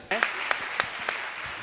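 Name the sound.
audience applause for the trustees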